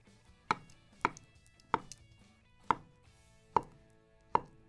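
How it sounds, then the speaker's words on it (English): A knife chopping banana into angled slices on a board, six crisp, separate cuts at a slow, slightly irregular pace, close and clear with no talking. "kind of give them a quick chop here"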